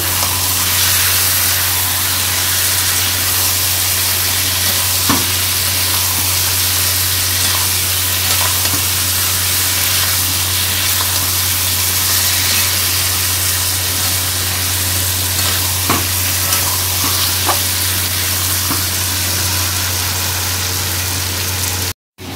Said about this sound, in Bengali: তো এদিকে এই যে এখন মাংসটা কষানো হচ্ছে।